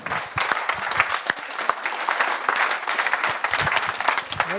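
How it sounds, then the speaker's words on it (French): Audience applause at a French professional honouring ceremony, steady dense clapping from a moderate crowd with a few sharper individual claps standing out, continuous and without talk. "je vous demande de l'applaudir et d'applaudir tout particulièrement Carole"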